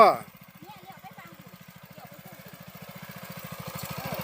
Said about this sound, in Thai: รถไถหน้าเครื่องสูบน้ำนะครับ